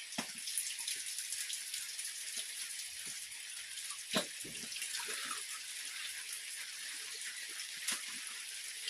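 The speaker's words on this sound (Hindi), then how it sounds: "अच्छी खासी बारिश हो रही है" Steady morning rain falls outdoors, a dense continuous hiss of drops with occasional louder nearby splashes and patters, holding even for the whole stretch, with no voices.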